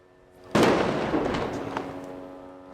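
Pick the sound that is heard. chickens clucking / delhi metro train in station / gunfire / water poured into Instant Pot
gunfire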